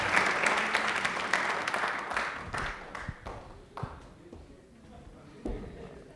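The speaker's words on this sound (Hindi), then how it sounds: "तालियां प्लीज एक बार जोरदार हो जाएं राजा के लिए" A studio audience at a television quiz show claps in a dense burst that gradually thins out and fades to scattered claps, with a voice speaking over it.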